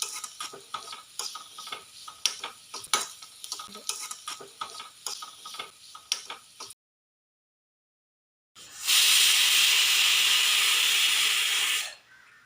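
Rice cooking in a pressure cooker vents a loud, steady rush of steam for about three seconds after a short silence, following a stretch of crackling oil sizzle and stirring from bitter gourd frying in a pan.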